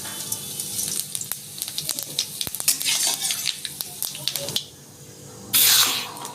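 A dried red chili and fennel seeds hit hot mustard oil in a wok-style pan, crackling and sizzling with quick spoon scrapes and taps, the fry flaring into a louder burst near the end.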